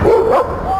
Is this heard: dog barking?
yes